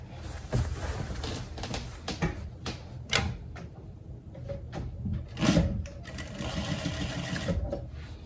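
A sewing machine stitches the elastic waistband of a dress in short, uneven bursts of rapid needle chatter, broken by clicks and handling noises of fabric and pins.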